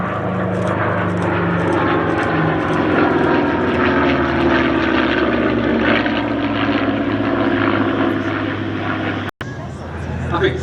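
A P-51 propeller fighter passes at the Sywell airshow, its engine a loud, steady droning roar that holds throughout, with people talking over it.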